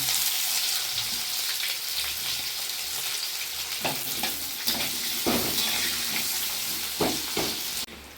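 Chopped onions hit hot oil in a pan for a raw mango curry, setting off a loud continuous sizzle with several sharp scraping stirs and clinks before it cuts off abruptly.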